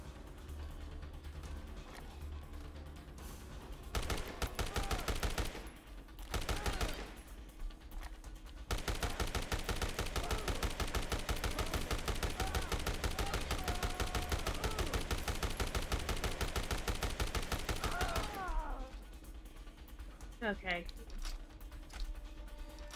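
Automatic gunfire from a machine gun in the Dead Rising Deluxe Remaster video game, sustained loud bursts with brief pauses, mechanical clicks and game sounds around them, a voice talking at times.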